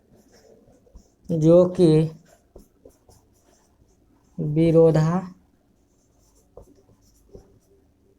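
A pen or chalk writing by hand during a class 10 maths lesson on real numbers, heard as faint, scattered scratches and taps between two short bursts of someone speaking.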